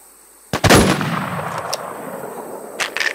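Gunfire in the survival shooter The War Z erupts as a sudden loud burst of close shots with a metallic ring, decaying into a rumbling tail before a few more sharp reports near the end.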